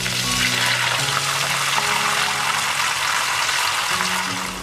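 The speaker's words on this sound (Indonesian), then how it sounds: "Sekarang kita goreng ikannya ya." Fish frying in hot oil in a pan for Mak Beng Sanur style fried fish, a constant dense sizzle and crackle throughout, close and fairly loud, with a low background hum and no voices.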